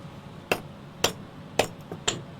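Four sharp hammer strikes land in an uneven rhythm about half a second apart, each a bright metallic crack over a low background hum, with a fainter tap between the last two; no one speaks.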